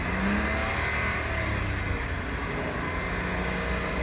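A Mitsubishi Attrage engine is revved and held at high revs, a continuous mid-pitched engine whine with a brief pitch shift near the start, fairly close and without speech.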